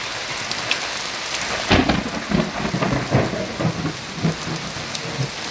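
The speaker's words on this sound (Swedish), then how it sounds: "Det är lite åska och grejer." Steady rain pours down in Greece while deep thunder rumbles and cracks through the middle, rolling on in uneven bursts. Fairly close and loud.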